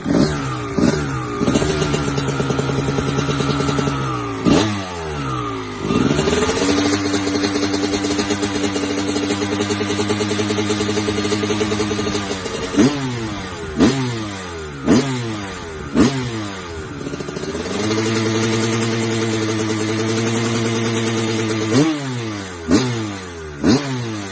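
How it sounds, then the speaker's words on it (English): A motorcycle engine starts and is revved repeatedly, with sustained high-pitched revs rising and falling over several cycles, broken by sharp clattering gaps and brief drops to idle, loud and close. "I also turned myself on a little bit today by starting a bike up again."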